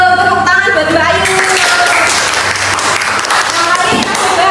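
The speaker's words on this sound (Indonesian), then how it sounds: "tepuk tangan buat Mbak Ayu" A class of children claps for a classmate in an Indonesian lesson about earthquake safety, a dense, loud patter of many hands that starts after a sung or spoken phrase and carries on, with voices mixed in.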